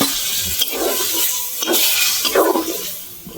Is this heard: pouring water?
yes